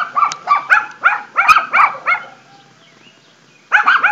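Small schnauzer dogs next door bark in quick repeated bursts, a run of about eight yaps, a short pause, then another cluster, fairly close and clear.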